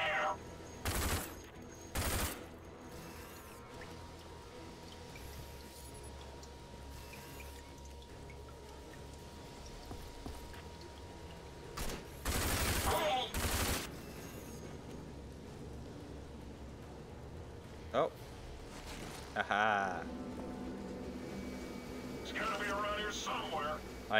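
Gunfire in the video game RAGE, several sharp bursts and volleys spread out with gaps, loud and near over a quiet steady background, with a voice talking between them.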